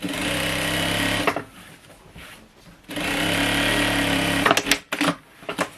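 Sewing machine stitching the side seam of a lace-trimmed pillowcase, running in two loud steady bursts separated by a pause, then a few short stop-start stitches at the end.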